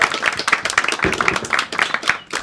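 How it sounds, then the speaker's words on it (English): Comedy club audience applauding and clapping in a dense, steady burst that fills the room, with scattered whoops on top, welcoming a comedian to the stage. "keep that applause going. Keep clapping, whoop and cheer"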